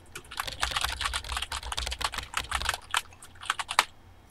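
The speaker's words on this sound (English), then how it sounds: "I was literally just pressing all the keys I could." Rapid, dense keyboard typing in the video game Emily Is Away, a flurry of many keys mashed in quick irregular bursts, close and fairly loud with no speech over it.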